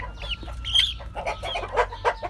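Turken, Ameraucana and village chicks and young roosters cluck and chirp in a quick, close sequence of short, bright calls, several birds overlapping.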